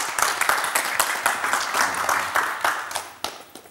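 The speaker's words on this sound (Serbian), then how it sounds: "Bravo, jedan veliki aplauz." An audience applauds at a talk on holidays and tradition, a room full of hands clapping in dense, uneven bursts that swell and then taper off near the end.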